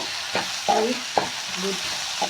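Egg bhurji masala with onions, tomato, salt and chili powder is stirred in a pan, heard as a few scraping spoon strokes over a soft, low sizzle, close and fairly quiet.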